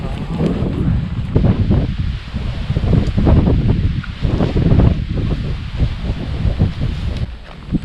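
Wind gusting across a backpacking campsite with a bivy sack, a loud continuous rushing buffet against the microphone that swells and eases, with some faint voices underneath.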